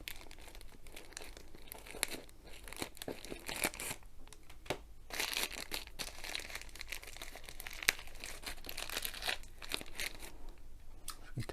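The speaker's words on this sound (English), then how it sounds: "So I'll get out the blunt scissors that I still haven't placed and cut through the end" Blunt scissors hack through the end of the plastic packaging on a diamond painting kit, with steady close crinkling, crunching and tearing of wrapper that rises in several bursts over about eleven seconds.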